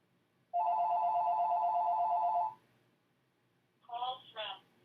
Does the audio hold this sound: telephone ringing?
yes